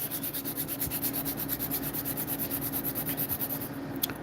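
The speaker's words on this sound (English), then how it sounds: "I'll get the cuticle area with my nail drill." Electric nail drill working over the cuticle area of an acrylic nail, a steady close-up grinding hum with faint periodic buzzing, continuous and unbroken for the whole stretch with no talk.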